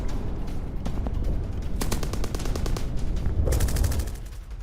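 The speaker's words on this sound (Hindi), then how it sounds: "फायरिंग यहां पर डोनबास में हो रही है।" Frontline battle between Ukrainian and Russian soldiers in Donbas, with loud, dense rapid gunfire bursts, machine-gun rattles and overlapping shots echoing continuously.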